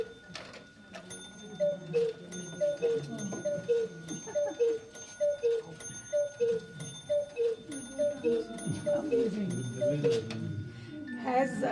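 A Black Forest cuckoo clock's mechanical music box plays a steady, bright plucked melody of evenly spaced notes, close and clear, with faint ringing overtones and no talk over it.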